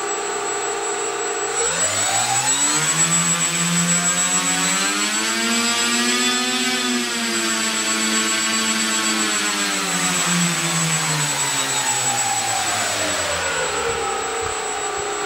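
Four radial engines on a B-29 bomber run together after an electric-powered start sequence, a loud steady droning roar that rises and holds with slow pitch swells, close and alone without any voices.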